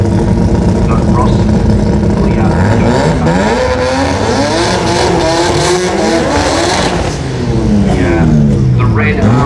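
Racing cars at a speedway, including a red Mazda RX3 and a red rotary-powered Gemini, roar loudly and continuously with shifting engine pitch while a commentator talks over them throughout.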